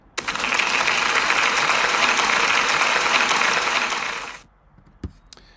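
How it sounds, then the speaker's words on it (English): A school celebration assembly breaks into loud, dense applause that holds steady for about four seconds and then stops abruptly, leaving a quiet room with a single knock afterward. "Can we give Hamza a big round of applause, please?"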